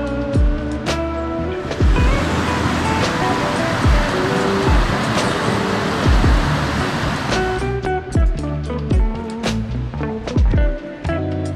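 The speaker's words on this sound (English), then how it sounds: "this little creek or stream, and it's gorgeous, man" Small creek or stream flowing along a snowy spring hiking trail in the Adirondack Mountains, a steady close rushing wash of water filling the whole stretch, with no talk.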